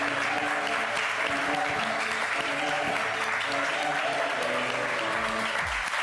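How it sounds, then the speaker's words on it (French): Studio audience at a French TV talent show applauding loudly and steadily, a dense wash of clapping that fills the whole stretch without a break. "Applaudissements s'il vous plaît."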